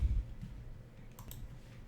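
A single soft mouse click on the Next button of a software setup wizard, faint and brief against a quiet room hum.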